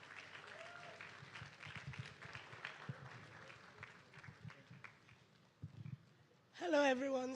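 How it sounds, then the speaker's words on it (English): Audience clapping at a DatafestAfrica 2024 conference as the next speaker is welcomed, a loose patter of hands under an emcee's voice that swells into a louder burst near the end. "Please, let's clap, let's clap,"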